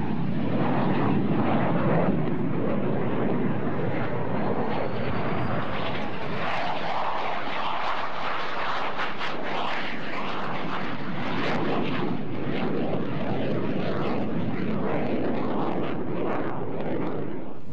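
A military jet roars steadily overhead at an airshow, a loud sustained broadband rumble that holds its strength throughout without pause.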